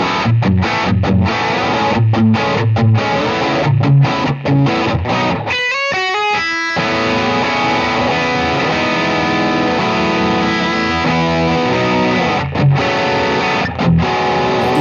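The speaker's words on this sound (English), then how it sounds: "when I double tap that switch, it engages the line distortion" Heavily distorted electric guitar playing chunky chords with rhythmic stops, a brief pause, then sustained saturated notes ringing out, loud and close.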